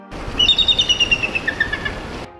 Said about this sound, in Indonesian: Sementara elang potak punya suara yang lantang.